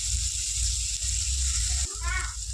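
Ingredients fry in a pan with a constant close sizzle and hiss, a brief clink near the end, while someone speaks over the cooking.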